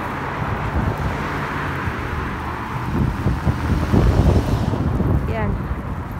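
Steady wind buffeting the microphone outdoors, with a low rumble throughout and faint passing traffic.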